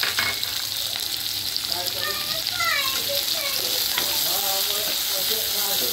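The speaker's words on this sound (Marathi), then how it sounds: "कांदा परतून घ्या मस्त गुलाबी।" Onion frying in a pan with garlic for mutton, a loud close sizzle with stirring, while a voice talks over it throughout.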